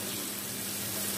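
Onions sautéing in a pan for chowmein give a steady, soft, continuous sizzle with no pauses and no voices.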